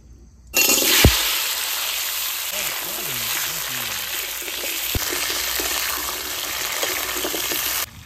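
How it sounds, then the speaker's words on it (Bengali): Potatoes frying in hot mustard oil in a wok, a loud steady sizzle starting abruptly and hissing continuously, with a couple of sharp clatters and faint talk underneath. "আমারও কড়াই গরম হয়েছে, আলুগুলো প্রথমে ভেজে নিই"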